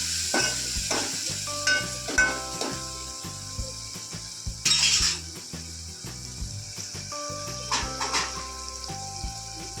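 Tomatoes frying in hot tempering in a pan, with a continuous close sizzle broken by clattering stirs and scraping knocks. A brief louder hissing burst comes about midway, and no one speaks.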